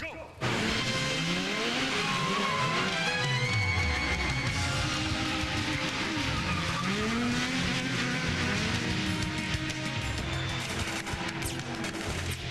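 Stunt cars race and skid through a theme-park movie-making show, with loud revving engines, pitch-swooping passes and squealing tires, continuous and near, alongside crowd and announcer sound.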